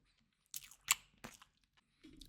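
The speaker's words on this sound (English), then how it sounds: "I am eating my dinner while I say this, if you hear any munching" Close crunchy chewing during a dinner meal, with a few distinct bites and munches spaced over a couple of seconds, quiet and with no talking.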